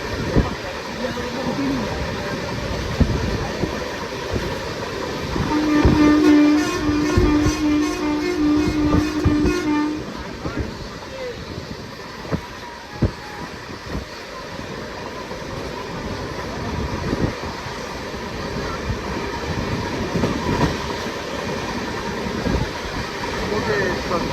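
Steady rumble of a moving train with rattling carriages and hiss, a brief tonal squeal partway through, and people talking over the noise, on a train arriving at Mantralayam in India.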